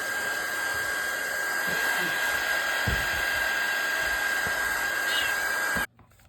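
A heat tool drying paint splatter on a junk journal background blows a steady, loud whirring hiss with a high whine for nearly six seconds, then switches off abruptly into quiet.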